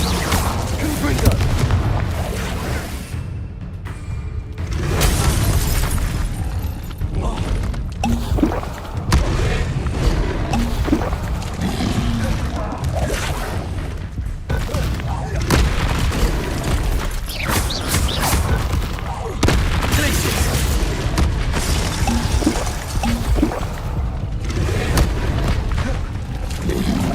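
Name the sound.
Confringo explosive spell blasts, Hogwarts Legacy video game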